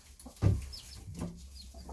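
Hens in an outdoor run give a few quiet clucks, one louder nearby cluck standing out against faint chirps and low background noise.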